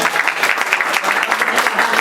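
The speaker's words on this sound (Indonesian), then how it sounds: "Mari kita sambut dengan sekali lagi dengan apresiasi tepuk tangan untuk Pendeta Gilbert." Audience applause for a pastor at a church wedding-anniversary celebration, a dense steady clapping from a crowd throughout, fairly loud and close with no voices over it.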